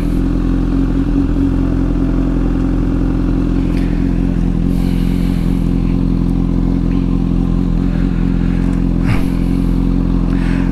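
A Honda CBR1000 Repsol motorcycle rides through a parking lot at night, its engine a steady loud drone close by with occasional light clatter and thumps, and no speech.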